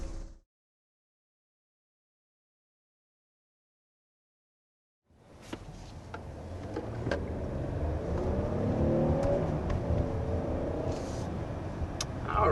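A 2023 Hyundai Palisade three-row SUV pulls away in city traffic and accelerates briefly to 30 mph, its engine and road rumble swelling from silence into a steady, moderately loud cabin drone.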